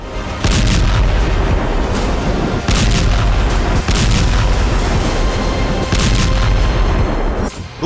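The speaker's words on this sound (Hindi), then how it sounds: "धमाकों की आवाज थम नहीं रही" Heavy artillery fire and explosions in the Russia-Ukraine war: loud, dense rolling booms and blasts that overlap almost without pause, with sharper cracks recurring every second or two and no voices.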